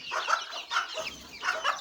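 Hens and roosters cluck in a few close, repeated bursts spread across a short stretch, with no talk.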